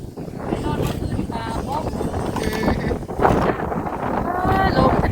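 Outdoors, wind buffets the microphone with a constant low rumble and gusts while a person talks over it and birds or other faint sounds chirp intermittently.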